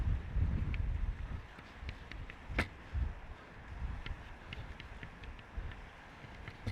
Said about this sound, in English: Getting quite windy.